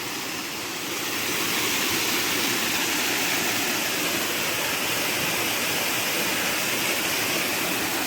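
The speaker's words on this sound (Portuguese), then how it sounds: "Isso aqui, gente, quando tem muita água, fica uma cachoeira enorme." Water pours steadily down rocks at a large waterfall, a dense, continuous roar close by that holds loud and even throughout, with no voices.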